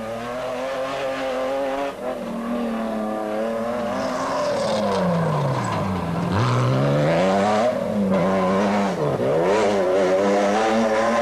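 Krzysztof Holowicz's Dakar 2009 rally car with an open-pipe 3-litre V6, close and loud, rising and falling through repeated revs and gear changes with a deep dip and climb midway, with tyre squeal and no talk.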